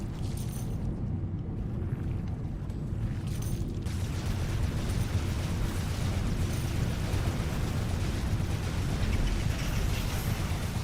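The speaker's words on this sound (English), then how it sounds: "That's a mortar." A mortar explosion in a video game: a deep, roaring boom swells after a few seconds into a sustained, loud rumble that persists to the end, with no voices.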